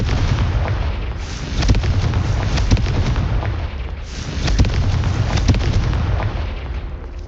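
A Confringo fire curse from Hogwarts Legacy bursts in two loud, booming explosions, each followed by a rumbling roar of blasts that fills the whole stretch.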